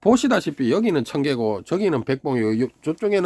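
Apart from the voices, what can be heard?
None of the usual background noises is heard.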